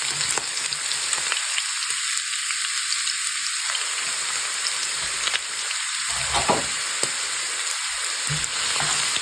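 Green chili, garlic and ginger sizzle steadily in hot oil for a Kerala mutton curry, with a few soft stirring scrapes breaking through the constant frying hiss.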